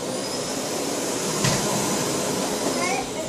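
A household vacuum cleaner runs steadily and loudly up close, a continuous broadband roar with no pauses, used indoors for styling a child's ponytail.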